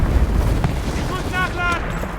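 Artillery strike explosions in a video game: a deep rumbling boom low and heavy, partly covered by a voice talking over it.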